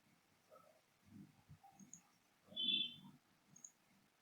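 A computer mouse clicks faintly while Control Panel mouse settings are being opened, one or two soft, quick clicks over a low murmur of background noise.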